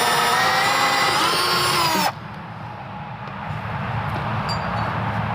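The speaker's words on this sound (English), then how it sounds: "I got my drill." A power drill bores into a wooden dresser with a loud, close, high whine for about two seconds, then stops abruptly and leaves quieter room noise with faint handling sounds.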